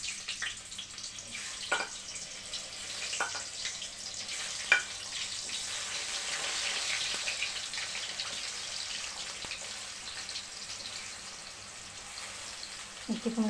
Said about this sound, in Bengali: মিষ্টি কুমড়োটা ভাজি করে নেব